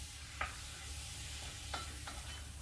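Onions fry in a pan for lasagne, giving a steady, even sizzle with a few light stirring clinks on top and no voices.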